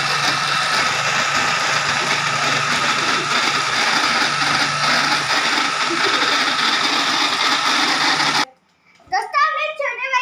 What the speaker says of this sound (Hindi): ये मैं लहसुन प्याज अब चॉपर में डाल के इनको चॉप करूंगा